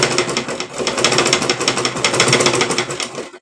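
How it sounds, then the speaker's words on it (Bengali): An electric sewing machine runs continuously, stitching a seam on a dress made from printed saree fabric, a loud rapid chattering whir that holds steady for several seconds before cutting off abruptly. "তো এইভাবে আমি পুরোটা সেলাই করে ফিরে আসছি।"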